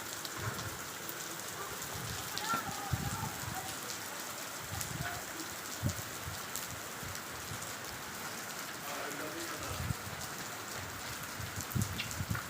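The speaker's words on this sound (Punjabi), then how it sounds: "ਮਿੰਟ ਦੇ ਵਿੱਚ ਹੀ ਮੀਂਹ ਕਿੰਨਾ ਜ਼ਿਆਦਾ ਆ ਗਿਆ" Heavy rain pours down on surfaces outdoors, a continuous close patter with scattered louder drops and splashes throughout, and no other sound over it.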